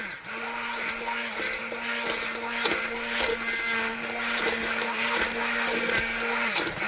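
A kitchen blender purees pinto bean soup in one steady, loud motor whine that runs continuously with slight shifts in pitch and texture as the contents churn, and no voices.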